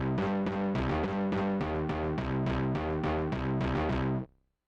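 Plucky modular synth bass voice with a shallow envelope, about a dozen short distorted notes repeating in a steady sequenced rhythm, played alone and ending in a quick fade.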